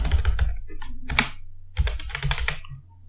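Rapid keystrokes on a computer keyboard while code is entered, with clustered bursts of clicks and brief pauses between them, close and fairly loud.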